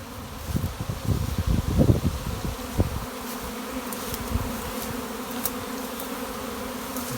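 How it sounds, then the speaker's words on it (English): Honeybee swarm buzzing as it gathers in one spot, a dense low drone with louder bursts of nearby bees in the first few seconds, then a steadier, softer hum. "See, the swarm is starting to coalesce in this location."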